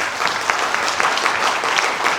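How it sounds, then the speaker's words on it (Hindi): Loud, dense applause from the audience at the Parinam Healthcare 14th anniversary event, a continuous wash of many hands clapping close and strong throughout. "के लिए जोरदार तालियां हो जाए।"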